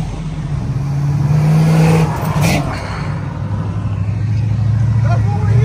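A Ford Mustang engine revs hard and pulls away at a smoke show, a loud close roar that rises and falls under excited shouting from onlookers.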